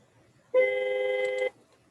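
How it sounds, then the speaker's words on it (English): A vehicle horn is sounded through a controller test setup, producing one steady, loud honk about a second long with clean harmonic tones that start and stop abruptly. "Okay, so it's testing the horn"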